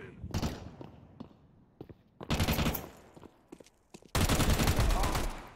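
Gunfire in a Counter-Strike match on Faceit comes as short sharp bursts at first, then builds to a long, loud sustained volley at the end, with muffled thumps between the shots.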